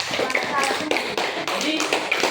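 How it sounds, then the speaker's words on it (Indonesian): Students in a classroom applaud a group, steady scattered hand clapping throughout, fairly loud, with voices murmuring underneath. "kita kasih tepuk tangan untuk kelompok 2"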